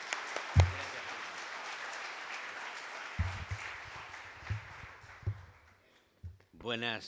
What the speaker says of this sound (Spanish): le damos un fuerte aplauso de bienvenida a nuestra casa